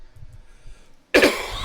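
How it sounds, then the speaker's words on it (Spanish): A single cough from a man giving a Spanish-language lesson, one short burst after a quiet pause, close to the microphone. "solo voy a toser bien"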